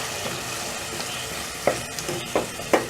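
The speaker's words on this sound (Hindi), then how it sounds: "अब मसाले में मटर और आलू को अच्छी तरह भूनेंगे" Peas and potatoes are stir-fried in a spiced masala for aloo matar curry, a steady low sizzle broken by a few sharp scraping stirs of the spoon near the end, close by and without speech.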